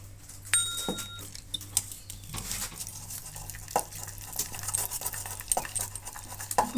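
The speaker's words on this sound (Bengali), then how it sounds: "ভালো করে ফেটিয়ে নেবো" A spoon beats gram flour batter with salt, chili powder, turmeric and water in a bowl, giving soft irregular taps and scrapes against the rim at close range in a quiet kitchen.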